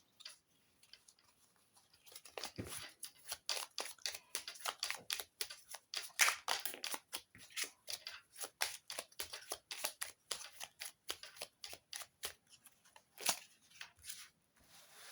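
Small fairy grimoire oracle cards being shuffled by hand: a soft, close run of quick papery flicks and taps, steady and irregular, with short pauses, no talking.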